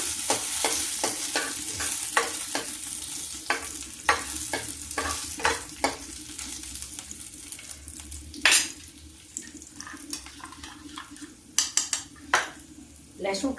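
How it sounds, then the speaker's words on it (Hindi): Garlic and chili sizzle in a hot pan while a spoon stirs and scrapes in quick repeated strokes, metal clinks standing out over the steady frying hiss. "लहसुन मिर्चा पक जाता है।"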